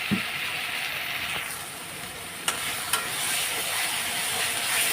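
Spice masala containing cumin fries in a pan at home, a bright, continuous sizzling hiss that swells slightly toward the end, with a couple of faint clicks partway through and no talking.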